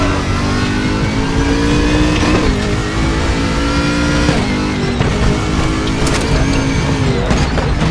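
A BMW Z4 GT race car's engine in the RaceRoom racing game, loud and continuous, holding a steady high drone with shifting revs and brief gear-change dips throughout.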